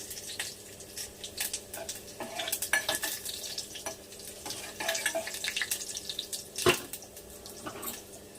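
Mustard seeds and cumin stirred in a pan for Andhra-style gongura dal, with steady scraping and light tapping of a spoon against the metal, plus scattered faint crackles and one sharper clank, no talk.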